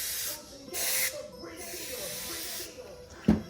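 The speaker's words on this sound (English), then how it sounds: "Just spray it off a little bit of carb cleaner." Short hissing bursts of aerosol carb cleaner sprayed into the carburetor bowl of a Honda TRX90 ATV, close and fairly loud, separated by brief pauses, followed by a sharp knock near the end.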